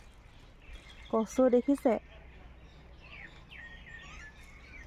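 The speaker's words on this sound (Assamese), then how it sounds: "চৰাই মাত, কুলিৰ মাত ন" A koel calls outdoors amid green surroundings, a short burst of loud, clear repeated notes close by, followed by fainter bird chirps in the background.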